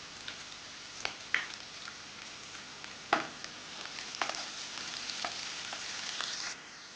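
Vegetables for street-style veg noodles sautéing in a pan, giving a faint, steady frying hiss with scattered clicks and taps of the spatula.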